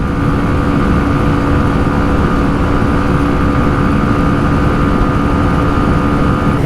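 A TVS Raider 125 and a Hero Xtreme 125R motorcycle race side by side in eco mode, producing a loud, unbroken roar of engine and wind that holds steady and close throughout.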